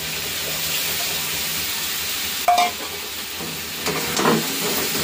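Yogurt goes into sizzling spices in a pan with a sudden hiss and spatter. Stirring follows, with a second surge of sizzle and soft scraping over a constant low frying background. There is no talk.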